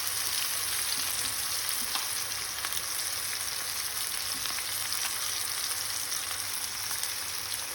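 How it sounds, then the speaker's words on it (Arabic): Chicken sautés in a little oil in a pan, a steady close hiss and crackle of frying that holds evenly throughout with faint stirring ticks. "وبعدين ببتدي اشوح فيه الفراخ، طبعا شويه زيت"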